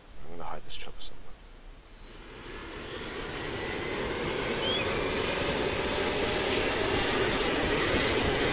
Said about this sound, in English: I'm gonna hide this chopper somewhere.